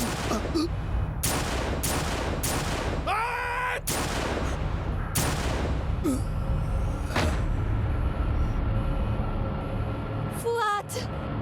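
Gunfire in a TV drama scene: several sharp, loud shots crack in quick succession over the first seconds, then scattered bangs, with shouting voices and a steady background bed throughout.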